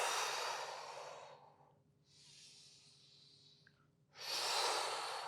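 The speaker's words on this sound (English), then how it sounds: "Take some big breaths and big audible exhales." Big audible exhales during a yoga session for anxiety: two long, loud breathy sighs close to the microphone, with a softer breath between them and no talking.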